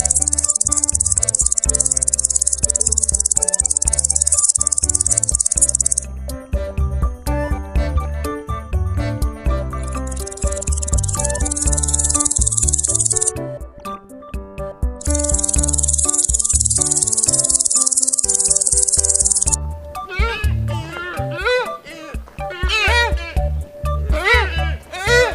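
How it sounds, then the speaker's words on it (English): Grasshopper chirping, a loud, high buzzing trill in long bursts with short gaps, set over steady background music. "Grasshopper."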